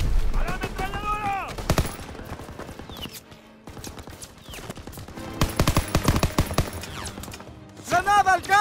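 Machine gun fire in a WW2 shooter, bursts of rapid automatic shots and blasts that come and go over a beach assault, with shouting voices and music heard among them.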